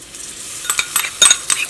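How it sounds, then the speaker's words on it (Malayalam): Ginger garlic paste hits hot oil and fried onions in a pan, giving a soft steady sizzle punctuated by several sharp spoon-stirring scrapes and clinks in the later part, close and fairly loud. "ഇനി നമ്മളിതിലേക്ക് ജിഞ്ചർ ഗാർലിക് പേസ്റ്റാണ് ചേർക്കുന്നത്."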